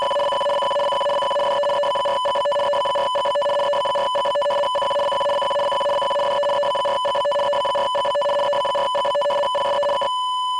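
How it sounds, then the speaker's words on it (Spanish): A steady two-tone warbling amateur radio radioteletype (RTTY) signal, fast and buzzy, with rapid data chatter that continues unbroken for about ten seconds before cutting off. "si escucháis este sonido en frecuencia ya sabéis que esto es radioteletipo, RTTI"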